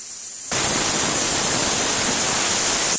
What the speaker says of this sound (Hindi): आप सुन सकते हैं सीटी की आवाज आ रही है